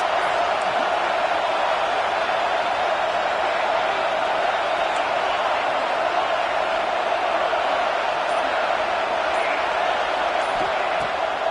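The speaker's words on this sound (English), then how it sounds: "Listen to this crowd just shaking the girders of this place, trying to help their defense." Football stadium crowd roaring during a game against Mizzou, a loud, unbroken wash of voices that fills the whole stretch without easing.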